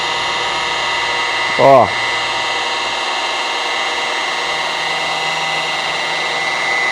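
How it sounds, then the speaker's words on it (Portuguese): A polisher works on glass with a continuous high whine and a steady broadband hum, interrupted by a short voiced sound. "Não tô colocando pressão na politriz, só tô apoiando, tá?"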